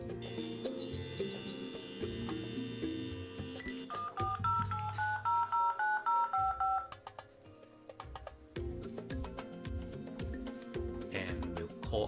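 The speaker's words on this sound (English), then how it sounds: "I can dial from the home phone." A home landline phone being dialed, producing a series of distinct touch-tone beeps in quick succession, close and clear, between clicks and other handset noises.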